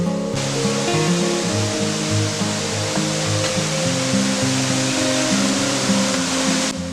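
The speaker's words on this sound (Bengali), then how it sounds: "প্রত্যন্ত গ্রামের অনেক ভিতরে ঝরে চলেছে পিটিডিডি ঝর্ণা" Pitidiri waterfall in a remote Purulia village during the monsoon, a steady, full roar of falling water that stays constant from start to finish with no voices.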